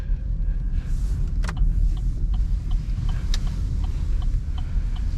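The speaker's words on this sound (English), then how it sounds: "Let's go ahead and do a few stall parking maneuvers." A car's interior during slow stall-parking maneuvers, with a steady low engine and road rumble, a regular soft ticking of the turn signal, and a couple of sharp clicks.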